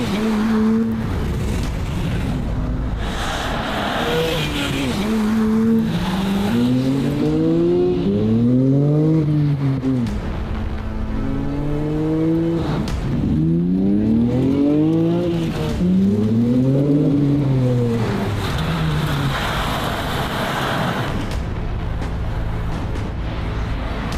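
A Nissan Skyline GT-R engine revs up and down repeatedly, rising and falling in pitch as it drives, loud and steady throughout with no talking.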